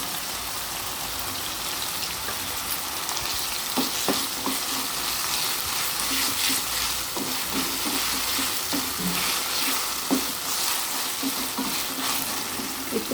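Ginger garlic paste fries in hot oil for a spring onion and egg curry, giving a continuous even sizzle with occasional soft scrapes of a spoon.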